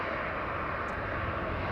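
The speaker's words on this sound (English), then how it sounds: "we've got a Lufthansa Airbus A319-100 that's going to Frankfurt." Lufthansa Airbus A319-100 jet at Manchester Airport, a steady broad engine roar with airy hiss, constant and moderately distant throughout the short stretch.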